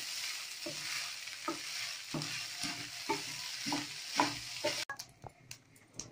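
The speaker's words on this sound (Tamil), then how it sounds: "நல்லா கலக்கி விடணுங்க" Fish fried rice stirred in a hot pan: a steady run of close scraping spatula strokes over a bright, continuous sizzle, with a few sharper clinks near the end.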